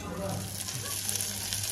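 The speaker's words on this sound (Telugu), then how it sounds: "ఆవాలు, జీలకర్ర, ఎల్లుల్లిపాయ, కరివేపాకు, ఎండుమిర్చి తాలింపు వేసేసారు." Mustard seeds, cumin, garlic, curry leaves and dried red chillies sizzle in hot oil as a tempering for mango sambar, giving a steady, close, hissing crackle that runs unbroken.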